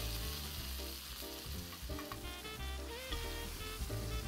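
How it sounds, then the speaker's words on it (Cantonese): A chicken roll pan-frying in oil and butter in a flat pan, a close, steady sizzle and crackle of hot fat with occasional stirring clinks, continuous throughout and with no talking. "跟住我哋攞個平底鍋，落啲油，將個雞卷擺埋入去，放多2粒牛油。"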